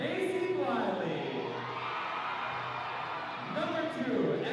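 Volleyball crowd at a high school gym cheering and whooping for the Barnesville Lady Trojans during player introductions, a loud continuous roar with a public-address announcer speaking over it.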